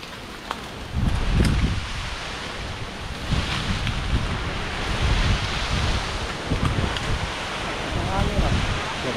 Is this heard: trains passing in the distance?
no